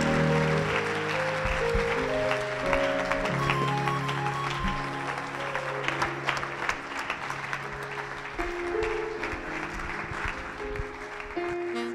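Audience applause at a church Passover convention as the pastor comes on stage: a steady, full wash of clapping over sustained keyboard or organ tones, continuing evenly throughout.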